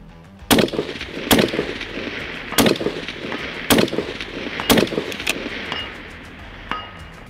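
A rifle firing reloaded rounds that had been dropped from a bench, six sharp loud shots spaced about a second apart, each followed by a brief echo outdoors.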